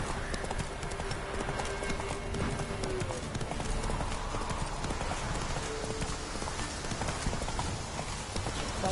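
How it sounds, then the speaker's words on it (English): Horse hooves clip-clop in the video game The Witcher 3: Wild Hunt. The hoofbeats are dense and continuous at a trot and sit under faint background sound and game dialogue. "Whoa there, Roach"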